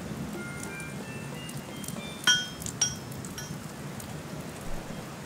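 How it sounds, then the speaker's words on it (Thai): Heavy rain in the video game Kingdom makes a steady, dense hiss that fills the scene, with a few sharp clinks and chimes ringing out over it partway through. "โอ้โหเสียงฝนแรงมากเลย"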